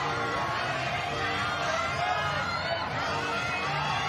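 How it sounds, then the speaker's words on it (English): An Austrian team cheers and shouts encouragement for a climber during a lead semi-final at a climbing championship in Seoul, a steady distant crowd roar under a commentator's voice. "I can hear the Austrian team cheering"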